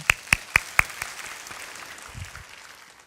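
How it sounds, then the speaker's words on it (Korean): A church congregation at a Korean Sunday worship service applauds briefly: a few sharp, close claps open the burst, then scattered clapping quickly fades away. "박수 한번 부탁합니다"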